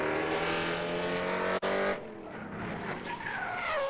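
A Formula Drift Pro-Spec drift car at the Grantsville, Utah qualifying round revs hard at the start line, then its tires screech and skid in a loud, sustained squeal, close and without talk.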